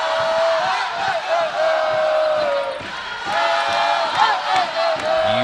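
Oregon crowd at the acrobatics and tumbling national championship final against Baylor, loud sustained cheering and rhythmic chanting with sharp whoops and claps, close and continuous.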